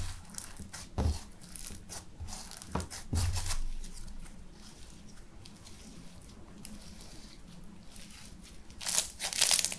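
Crunchy slime mixed with cookie-crumb add-ins is squished and pressed by hand, giving irregular crinkly crackles and bursts of crunching with quieter gaps between, close and fairly soft, with a louder flurry at the end.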